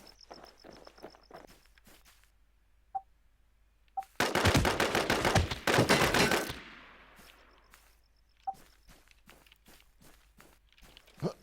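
Bursts of VSS suppressed rifle fire in the shooter game Infest, a dense rapid volley in the middle between scattered single shots and footsteps.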